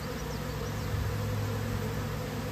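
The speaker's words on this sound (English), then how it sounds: "there's tons of bees airborne" A honeybee swarm fills the air above a hive stacked with three honey supers, a dense, steady buzzing hum that stays even and close throughout.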